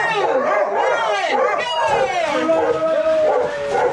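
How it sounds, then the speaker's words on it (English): Sled dogs and puppies at a sled dog demonstration in Skagway, Alaska, howling and yipping together in a loud, continuous, wavering chorus close by. "We're going to check out some sled puppies and some racing dogs."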